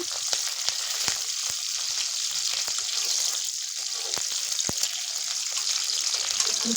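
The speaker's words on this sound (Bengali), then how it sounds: "এরপর পেঁয়াজটা একটু হালকা নেড়ে ভেজে নেব" Chopped onion and green chili frying in hot oil, a steady close sizzle broken by occasional sharp taps and scrapes of a stirring utensil.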